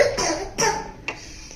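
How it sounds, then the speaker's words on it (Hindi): A child coughs indoors in a family home, three short harsh coughs close by, each fading quickly, with no talk over them. "खांसी आ रही है, गंदी खांसी है"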